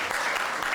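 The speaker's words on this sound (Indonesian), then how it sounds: "tepuk tangan buat Kak Dianisa" A short, steady burst of audience clapping for a speaker at a panel talk on just energy transition and green jobs, a dense even wash with no voices.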